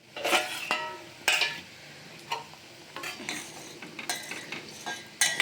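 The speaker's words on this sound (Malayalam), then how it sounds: "അപ്പോൾ ഇടയ്ക്കൊന്ന് നമുക്കൊന്ന് ഇളക്കി കൊടുക്കാം." A spoon stirs a pot of boiling water with rosemary and onion, heard as several distinct scraping clinks against the pot over a faint bubbling simmer, close and fairly quiet.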